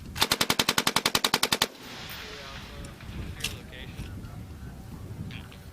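Machine gun firing a rapid burst of about fourteen evenly spaced shots at targets near a tower during a military exercise at Schofield Barracks, Hawaii, loud and close, then cutting off into outdoor rumble and faint movement.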